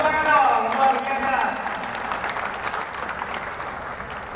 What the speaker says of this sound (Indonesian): Kasih tepuk tangan dong, luar biasa.